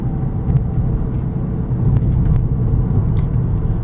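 A 2022 Ford Maverick Lariat hybrid pickup on a test drive gives off a steady low road rumble and cabin drone, fairly loud and unbroken, with faint ticks over it.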